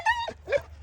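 A strong bully dog lets out two short, high whimpers in quick succession, close and clear, the first a sustained whine that drops off, the second briefer, over a low background hum.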